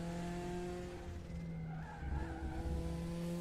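Porsche race car tires squealing in the RaceRoom racing game, sustained tonal screeches sliding up and down over a steady engine drone, with the squeal rising in pitch and intensity midway.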